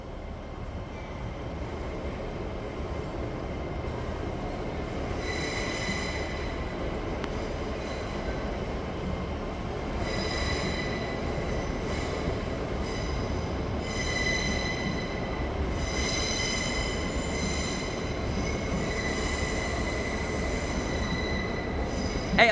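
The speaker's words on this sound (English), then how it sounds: "There goes that LNER Zoomer for London King's Cross." An LNER Azuma train bound for London King's Cross rolls through Newcastle station, a steady rumble of wheels on rail with repeated high squeals and ringing tones from the wheels, sustained and fairly close throughout.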